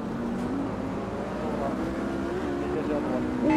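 A Lamborghini GT3 race car driving in the racing game Automobilista 2, its engine a continuous, steady drone with shifting pitch that rises slightly at the end.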